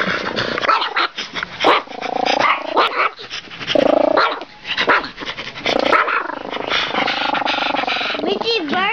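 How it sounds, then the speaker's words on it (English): A dog barks repeatedly in loud bursts, with growls and panting between them, while people talk and shout nearby. "barking"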